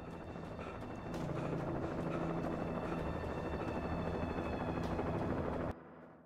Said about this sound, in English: After a helicopter scene.